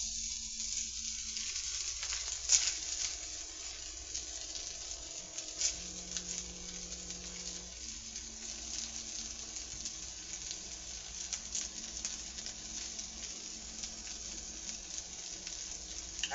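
Shrimp fry in a pan with a soft, steady sizzle that keeps going without a break, faint and close, along with occasional small pops and crackles, and nobody speaks.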